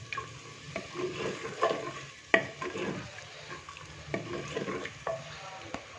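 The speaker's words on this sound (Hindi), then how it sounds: "अच्छे से मिक्स करेंगे और इसको तकरीबन 4 से 5 मिनट अच्छे से भून लेंगे पहले" Peas frying in a pan, a soft sizzle under repeated stirring strokes and spatula scrapes that come in short bursts with brief pauses between them.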